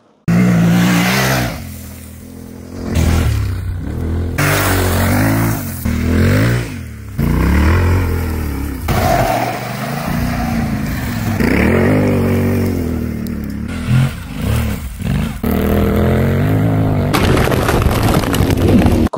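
Yamaha Ténéré touring motorcycle being ridden hard, its engine loud and close, repeatedly revving with rising and falling pitch sweeps through gear changes and an occasional sharp pop.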